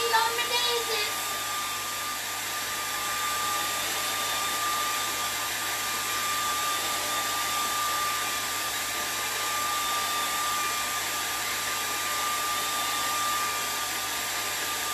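A hair dryer blows steadily on a painted Easter cat artwork to dry the paint, a constant whooshing hum running the full length at moderate volume.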